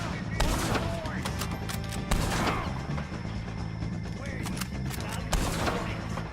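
Gunfire rattles in a Red Dead Redemption 2 shootout, a run of sharp loud shots and bursts at irregular intervals under voices and battle noise.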